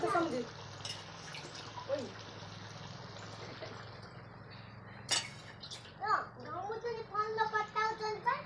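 Water is poured into a pot of chicken curry with potatoes cooking at home, giving a brief splash and trickle. A voice talks over it and keeps going afterward.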